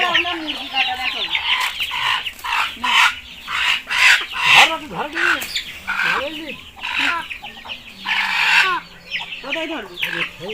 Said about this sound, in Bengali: তো এই প্রথমবার আমরা মুরগি কাটা দেখাবো